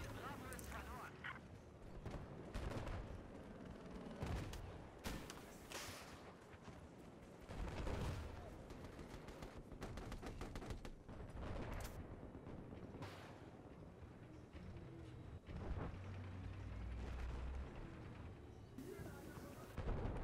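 Gunfire and explosions from the video game Battlefield 4 fill the whole stretch with dense bursts and booms, some loud and close, others distant, while someone talks over the action in German.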